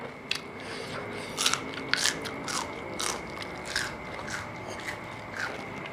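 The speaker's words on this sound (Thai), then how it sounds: "เนื้อกรอบแห้งครับ ฟังเสียงนะคะ" Dry, crispy fried pork from a spicy Thai khanom jeen salad gets bitten and chewed up close, loud sharp crunches repeating in an uneven rhythm with no talking.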